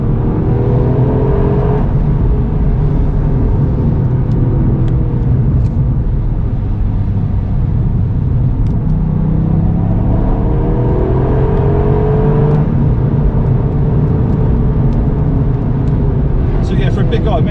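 A Toyota GR Yaris with GR4 all-wheel drive and Pilot Sport 4S tyres drives on a wet road, its engine droning and rising through gears with steady tyre and road noise from inside the cabin, with someone talking over it.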